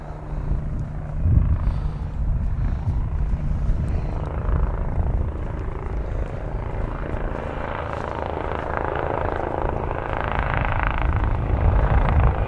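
An airliner touching down at Manchester Airport: a steady broad engine roar with rumbling low end, moderately loud and continuous, with no talk over it.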